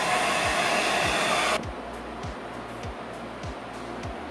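A hair dryer, drying refinish coating on an aviation seat cushion, roars loudly with a steady broadband whoosh, then drops to a quieter hum partway through, with faint rhythmic low thumps underneath.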